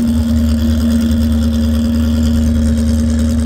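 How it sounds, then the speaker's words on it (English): Turbocharged straight-eight Buick engine in a 1975 Jaguar race car at a paved-mile speed event, heard as a loud, steady, deep engine drone held close throughout with no voices. "He's pushing a 1975 Jaguar with the straight eight, yes, I said straight eight Buick engine turbo."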